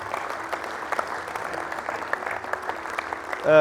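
Sustained audience applause for a retiring colleague, steady dense clapping throughout, with a louder burst near the end.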